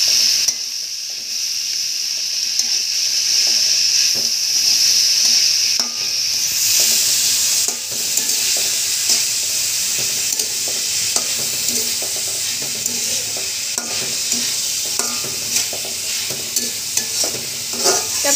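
Turmeric, chili and salt are stirred through hot oil in a frying pan, giving a steady loud sizzle with repeated scraping strokes of the stirring utensil, continuing alone throughout with no talk.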